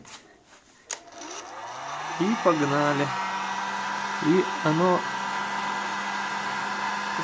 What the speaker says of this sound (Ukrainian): Потом берем фенчик.